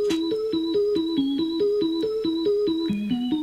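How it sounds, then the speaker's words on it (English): Organ melody from Sample Tank in FL Studio, a short repeating line of evenly spaced staccato notes with shifting pitch, steady rhythm and clean tone, played alone at moderate level. "I just chose an organ, just something that'll give us a small melody"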